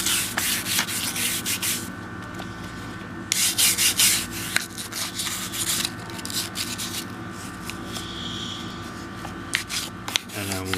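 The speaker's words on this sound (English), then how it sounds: "And the inside of the magazine well. Go ahead and just brush off the surfaces." A brush scrubs across the surfaces and inside of a firearm's magazine well in repeated rough, scratchy strokes, close and fairly loud, with short pauses between bursts.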